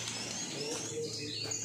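White-rumped shamas (murai batu) sing on a Sunday morning near a home in Singapore, bright whistled phrases rising over a soft background murmur, fairly faint and close.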